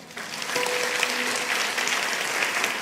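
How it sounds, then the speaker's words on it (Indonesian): A church congregation claps together in steady, sustained applause that fills the worship hall, with a faint sustained tone from instruments or voices underneath. "Kasih tepuk tangan untuk Tuhan."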